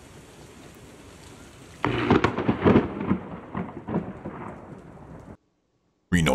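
Rain hisses steadily in Reno, Nevada, then a loud crack of thunder from a strike on power cables breaks into a long rumbling roll before cutting off abruptly to silence.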